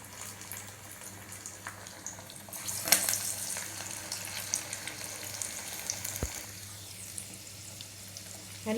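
Masala vadai, a Tamil lentil fritter, frying in hot oil, giving a steady close hiss and crackle with a brief louder burst as batter goes in, and no talking.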